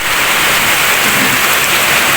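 Heavy rain pours in a loud, dense, continuous hiss with no break, heard during a bicycle fun race near San Teodoro.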